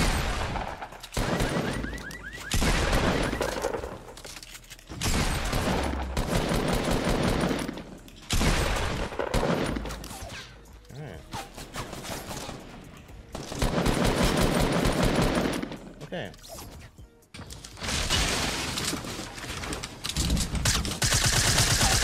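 Fortnite gunfire, dense bursts of rapid automatic shots and blasts in long loud volleys separated by short lulls, with no talk.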